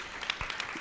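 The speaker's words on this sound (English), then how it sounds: "Huge round of applause for Dave and Adam" Audience applause for two presenters at a philanthropy talk, a brief burst of scattered clapping from a crowd, with a few sharper individual claps standing out.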